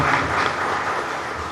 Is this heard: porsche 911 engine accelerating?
no